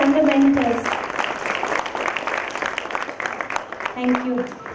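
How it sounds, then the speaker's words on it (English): Applause for students and mentors at a school graduation ceremony, a dense crowd clapping steadily for several seconds with a few voices over it, then easing off. "a huge round of applause for the efforts of the students and the mentors"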